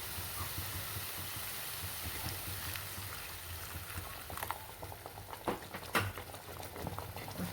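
Masala gravy bubbling in a pan after hot water is poured in, a faint steady simmering hiss with light popping and patter growing toward the end, no voices.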